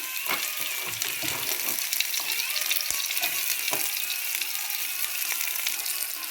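Garlic and onion frying in a pan with a soft, constant sizzle and crackle, scattered light pops and clicks of stirring, fairly quiet and close with no talking.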